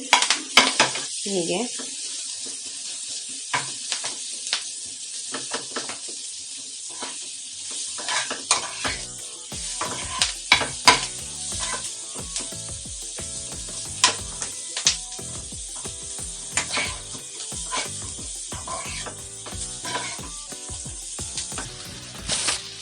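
Broccoli fry is stirred in a pan over a high flame, with a loud sizzle and frequent scraping, clattering utensil strokes against the pan, and a brief spoken word near the start.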